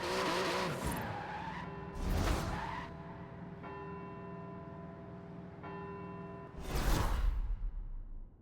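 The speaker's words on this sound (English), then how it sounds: "Hard on those carbon ceramic brakes now." A car in Forza Horizon 4 brakes hard on carbon ceramic brakes, giving loud skidding tyre squeals and whooshes in several bursts over a steady, tonal engine hum.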